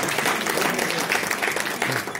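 An audience at a film festival in Bareilly claps loudly and continuously, a dense, even burst of applause with no voices on top.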